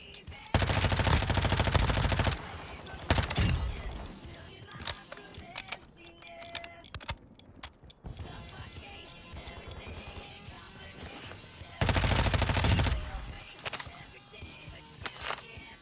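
Gunfire in Call of Duty DMZ: loud bursts of automatic fire in separate volleys, with scattered single shots and clatter between them.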